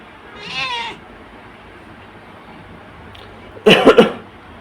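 A cat recovering from neuter surgery gives a short, clear meow near the start, followed after a quiet stretch by a louder burst of raspy, cough-like vocal sounds close to the microphone; no one speaks.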